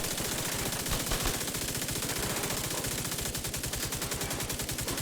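Rapid, steady automatic weapon fire in The Division 2, a continuous loud stream of evenly spaced shots lasting the full five seconds with no pauses.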